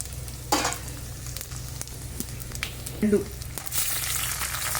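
Urad dal and dried red chillies crackle and sizzle in hot oil for a rice-flour upma tempering, a continuous close frying hiss with sharp spits and a louder burst near the end.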